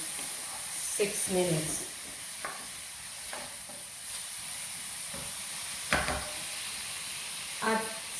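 Beef stir-frying in a pan for a simplified beef and vegetable stir fry, with a steady low sizzle and hiss beneath intermittent scraping stirs and brief clattering bursts, while a voice talks briefly over it.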